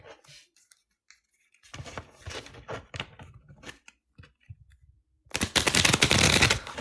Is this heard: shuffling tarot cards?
yes